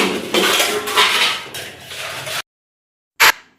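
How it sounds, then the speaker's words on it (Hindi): Dishes, pots and cutlery clatter and clink steadily while being washed by hand in a home kitchen sink at night, near and loud, then stop abruptly, followed after a pause by one sharp burst of clanking. "अभी पहले मैं बर्तन धोऊंगी"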